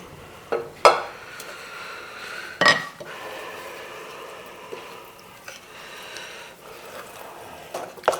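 Ragi millet bread batter with milk being whisked in a bowl, scattered clinks and taps of the whisk against the bowl over a quiet background, a few sharper knocks standing out.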